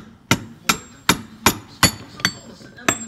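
A hammer taps on scrap copper from dumpster diving, seven sharp metallic strikes spaced roughly evenly about every 0.4 seconds, close and clear with no talking.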